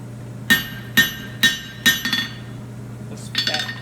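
Four sharp, ringing hammer blows on hot metal while forging wolf-jaw tongs, at a steady rhythm, followed by a quicker cluster of lighter planishing taps and a faint metallic scrape, with a low hum underneath.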